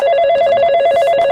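An old telephone's bell rings continuously in a rapid, metallic trill, loud and close, with no voices over it.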